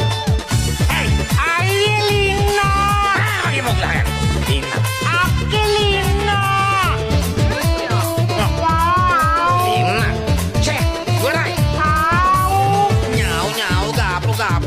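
A pet house cat meows again and again in drawn-out, rising and falling cries, loud and close, over continuous music or singing.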